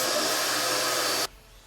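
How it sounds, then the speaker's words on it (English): An air blowgun clearing metal shavings out of an engine cylinder during spark plug thread repair gives a loud, steady hiss of compressed air that cuts off abruptly, leaving near silence. "a good method to clean out the cylinder of all the metal shavings is a blowgun"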